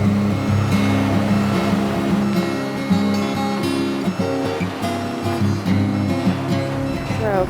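A flatbed truck hauling granite stones weighing 56,000 pounds rumbles steadily nearby, a loud continuous engine drone with rattling and shifting noise throughout.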